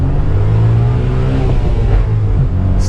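A 1995 Suzuki Cappuccino EA21R small sports car engine revs hard and loud close by toward 9,000 rpm, a continuous rising mechanical roar with no talking.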